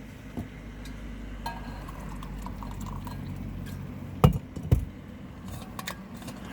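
Water pours steadily into a coffee cup at close range inside a car, with a couple of sharp clinks partway through and faint jangling of keys in the background.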